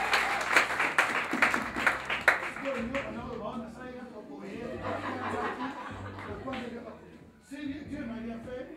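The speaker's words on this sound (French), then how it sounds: "On acclame très fort le Seigneur" Church congregation at a Christian assembly clapping and cheering loudly in praise, a dense burst of applause and shouts that eases into a murmur and then swells again, with voices mixed throughout.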